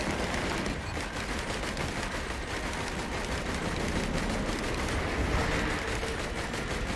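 Rapid gunfire crackles through a Risk of Rain 2 video game session, dense continuous shots and blasts filling the whole stretch at steady loudness with no talk.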